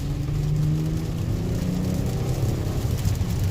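A Mitsubishi Outlander with all-wheel control accelerates hard on a wet road in the rain, its engine droning low and steady under continuous tyre and road noise.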